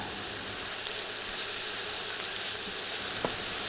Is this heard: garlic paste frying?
yes